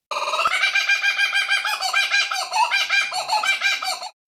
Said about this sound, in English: The kookaburra has an interesting sound. You know the sound of a kookaburra?